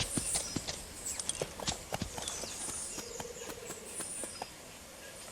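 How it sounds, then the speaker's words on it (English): Hooves of a white horse clip-clopping in a video game, a fast, irregular patter of sharp knocks, close and clear over a soft ambient bed. "Oh, a pretty white horse."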